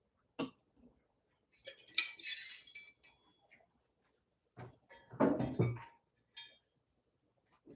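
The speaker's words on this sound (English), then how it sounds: "We're going to open up our shaker bottle." A cocktail shaker bottle being opened in a kitchen, metallic clinks and scrapes in short separate bursts with quiet gaps between them, fairly close and faint.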